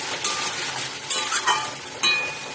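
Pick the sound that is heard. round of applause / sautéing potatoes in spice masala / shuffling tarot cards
sautéing potatoes in spice masala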